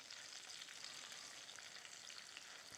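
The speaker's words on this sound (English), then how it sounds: "I'm gonna let this just fry a few minutes longer" Pounded okra pods frying in hot oil, a soft continuous crackling sizzle, even and fairly quiet with no talk.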